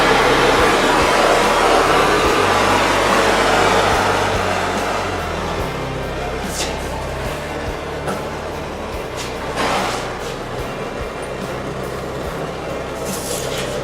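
A waste oil burner roars into life with a loud, steady rushing blast that eases slightly and settles into a continuous running drone, with a few faint clicks over it.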